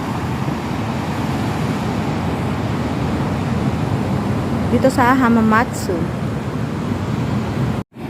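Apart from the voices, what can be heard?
ocean waves breaking on Pacific beach in Hamamatsu, Japan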